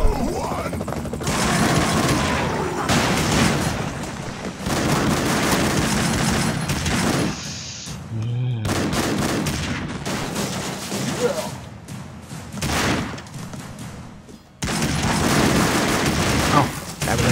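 Rapid gunfire and explosions from the side-scrolling action game Broforce, sustained bursts of shooting and booms nearly continuous across the clip, loud and dense, with a voice speaking over the action.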